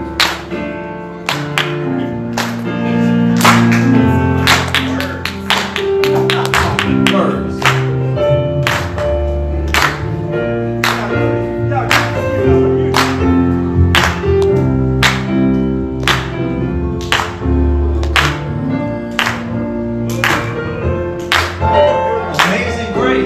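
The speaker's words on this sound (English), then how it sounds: "Clap your hands if you feel like it." Congregation clapping along in steady rhythm to a live worship song, sharp claps repeating through the music with singing and instruments at a church service.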